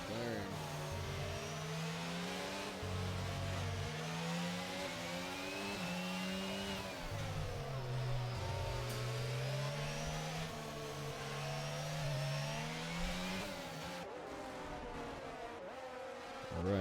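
A McLaren Formula 1 car drifts around the Singapore street circuit in a racing video game, its high engine note wavering and climbing steadily with no break while the revs rise and fall.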